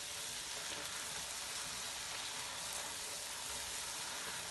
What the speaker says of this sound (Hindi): इसको हमने उस वक्त तक भूनना है जब तक ये मसाले जो हैं वो अच्छी तरह भुन जाएं